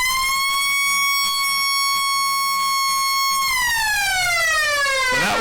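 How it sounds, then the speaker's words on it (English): A loud, steady harmonic siren blares to end an Australian rules football match at the Eastern Oval, holding its tone for several seconds before winding down in pitch. "That's the final siren here at the Eastern Oval."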